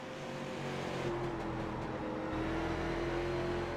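Race car engines in the iRacing simulator, including a Chevrolet Monte Carlo stock car, droning loudly and steadily with a sustained high whine that shifts pitch as the cars run close together.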